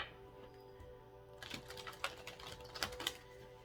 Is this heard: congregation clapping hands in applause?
no